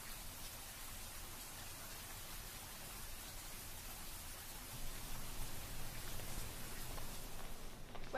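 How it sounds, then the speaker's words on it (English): Rain falls in a soft, steady patter, faint and even, growing slightly louder toward the end. "Where are you going? To look at the rain."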